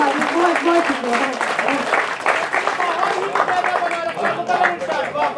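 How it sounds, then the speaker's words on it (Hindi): Audience applause at a mushaira poetry recital, steady clapping filling the hall with talk and a voice carrying over it throughout. "एक बार मैं चाहती हूँ जोरदार तालियां आप लोग अपने लिए बजाएं"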